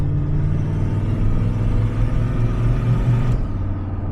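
A turbocharged small-block Chevy V8 in a Camaro with FiTech EFI rumbles steadily as it accelerates under boost, a heavy, close engine drone heard from inside the car that cuts off sharply near the end.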